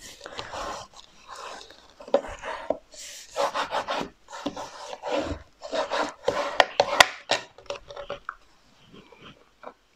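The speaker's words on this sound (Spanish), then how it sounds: "extender bien con la plegadora" A bone folder rubs and smooths Kartos paper during bookbinding, making close, dry scraping strokes in short repeated bursts with brief pauses between them and no talking.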